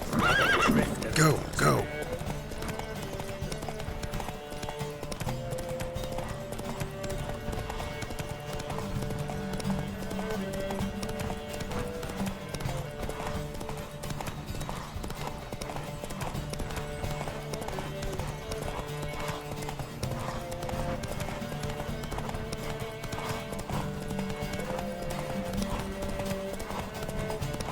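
Clip-clopping hooves and whinnies of a galloping horse in The Witcher 3: Wild Hunt, a steady rhythm running under game music, with a voice urging the mount on briefly near the start.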